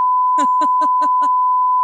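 A steady, loud censor beep tone runs unbroken through the whole stretch while a voice speaks a few rhythmic syllables underneath it.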